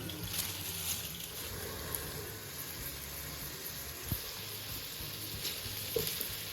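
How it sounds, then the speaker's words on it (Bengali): Bottle gourd frying in a pan, a steady low sizzle and crackle running evenly throughout with a few faint clinks, no talking. "সুন্দর লাউ ভাজা হচ্ছে"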